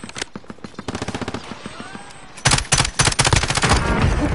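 Automatic gunfire in Warzone, a rapid string of sharp shots that tapers off, then erupts again much louder and denser in a sustained burst.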